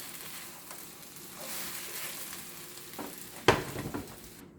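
Scrambled eggs and egg whites with vegetables being stirred in a hot pan, a soft steady sizzle with scraping strokes and a sharp clatter of the utensil against the pan near the end.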